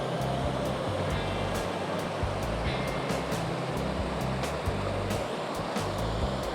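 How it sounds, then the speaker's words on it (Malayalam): Water flows steadily through a village in a continuous broadband rush, close and fairly loud, with faint clicks on top and no speech. "വെള്ളത്തിൻ്റെ സൗണ്ട്"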